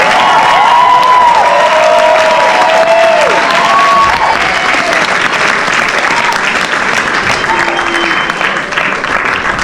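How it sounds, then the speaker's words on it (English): Wedding guests applaud in a big, sustained round of clapping for the bride's parents during a best men's speech, loud and continuous throughout with crowd noise. "give a big round of applause to May's parents, Dr. Graywall and Dr. Rye."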